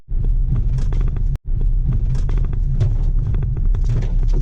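A car drives on a rough dirt road across a pan in Kazuma Pan National Park after leaving mopani forest. The engine rumbles loud and steady, with bumps and rattles throughout and one brief drop partway through.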